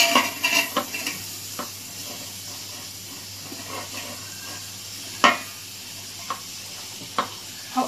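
Carrots tumbling into beetroot frying in ghee in a pan, stirred with a spoon: a steady close sizzle with scattered scraping clatters and a few sharper knocks, no talking.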